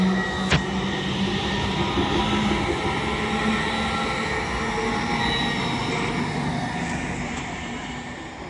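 LNER Azuma train pulling out of Peterborough station on the East Coast Main Line, a steady rumbling roll with a sharp click near the start and faint wheel squeal, continuous and close with no talk.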